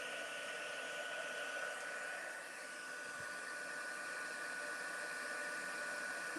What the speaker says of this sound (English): So I'm going to let my heat tool heat up a bit.